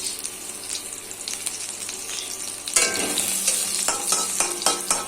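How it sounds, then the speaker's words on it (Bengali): Nigella seeds hiss and crackle in hot oil in a wok, along with dried red chilli and chopped garlic, in a close, steady sizzle that swells louder partway through, with scattered clicks of stirring. "এই কালো জিরে ফোড়ন দিলাম।"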